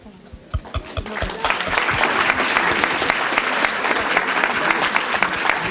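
An audience applauds loudly for the students of Saint-Paul du Pirée at a Francophonie competition, starting with a few scattered claps that quickly swell into a dense, sustained round of clapping.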